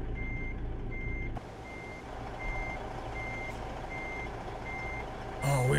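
Steady reversing beeps from a truck backing a trailer in American Truck Simulator pulse at an even rhythm over a low engine idle, ending with a short hiss.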